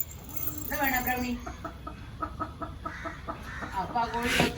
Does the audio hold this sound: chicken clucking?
yes